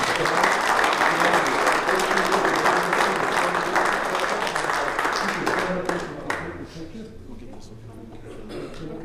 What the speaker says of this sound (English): Luella deserves a round of applause for the wonderful work that she has done